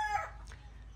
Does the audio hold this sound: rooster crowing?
yes